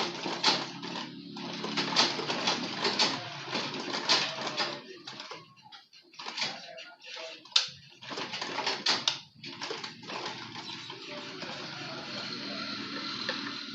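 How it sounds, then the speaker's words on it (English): A fabric souvenir bag being stitched on a sewing machine, bursts of rapid mechanical clatter broken by short pauses, fairly close and steady in level. "So continue sewing."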